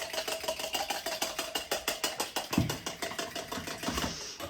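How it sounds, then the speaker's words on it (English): Eggs whisked briskly in a cup, making a fast, even run of rhythmic tapping and clicking close by, with no talk. "Get them eggs whisked up in the cup."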